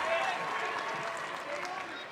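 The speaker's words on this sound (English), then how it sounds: "This crowd trying to get behind him." A college wrestling crowd at a match between Minnesota and Oklahoma State, cheering and clapping loudly in a continuous wash of noise while a commentator talks over it.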